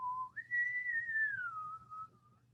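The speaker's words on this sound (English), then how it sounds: "that was a mysterious whistle in case you didn't catch that." A lone person whistles one clear, sustained note that jumps upward and then glides slowly down, faint and close, over a quiet low hum.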